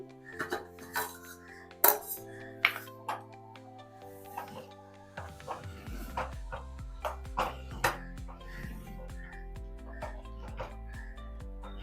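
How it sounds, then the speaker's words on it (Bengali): A pot lid clinks as it opens and khichuri is stirred, giving scattered metallic knocks and scrapes over a low steady hum from the stove. "আমি এখন ঢাকাটা খুলে একবার নেড়ে নিচ্ছি"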